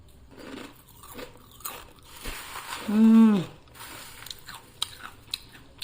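A crunchy Kerala corn flakes mixture snack is bitten and chewed close up, with a few crisp crunches and one louder bite, over a faint background hum.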